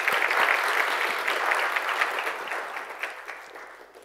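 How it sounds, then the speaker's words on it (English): Church congregation applauding during a worship service, a full, steady round of hand clapping that holds strong and then tapers off near the end. "Let's give the Lord a hand clap of praise."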